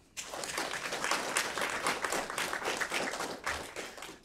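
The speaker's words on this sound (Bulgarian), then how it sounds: "И овации за Митко Новков." Crowd applause at an awards ceremony starts abruptly and holds as sustained, dense clapping from a full audience, easing slightly near the end.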